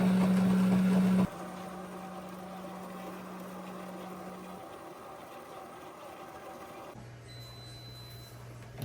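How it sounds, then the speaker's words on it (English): An electric coffee grinder runs for an ACASPRESSO espresso machine, giving a steady, loud motor drone at first that drops to a lower, continuous hum and keeps running throughout. "Grind the coffee"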